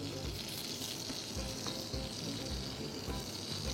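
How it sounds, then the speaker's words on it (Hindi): Parathas frying on a hot tawa griddle, a steady crackling sizzle with occasional soft stirring or scraping, close and constant without speech. "और फिर इस तवे पे मैं फ्राई कर लूँगी"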